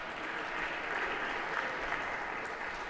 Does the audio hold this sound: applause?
yes